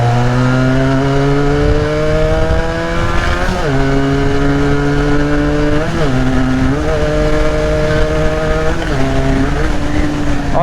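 Close and loud, a modified Benelli motorcycle exhaust holds a deep, steady burble, then gets several quick throttle blips that sharply raise the pitch before it drops back each time.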